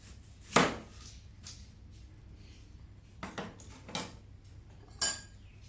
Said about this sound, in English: Firstly, we take an onion and we cut like this.